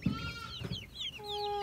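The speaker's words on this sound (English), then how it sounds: "It's our first time hatching a duckling from our own ducks." Newly hatched Rouen and Pekin mix duckling peeping: rapid high, thin chirps in quick succession, close and clear over light room noise.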